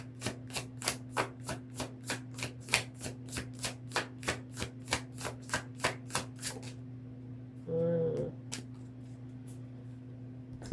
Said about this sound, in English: Oh, I love how those cards are just flying out.